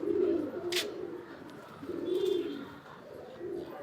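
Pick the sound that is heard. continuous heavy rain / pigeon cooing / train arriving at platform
pigeon cooing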